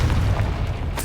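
Confringo blasting spell exploding in the Hogwarts Legacy video game, a deep booming blast with a heavy low rumble that rolls on briefly before a sharper burst at the end.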